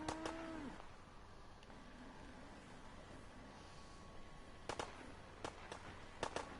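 Distant gunfire in Fallout 4 sounds as a few faint, scattered sharp cracks, some in quick pairs, over a low steady background hiss.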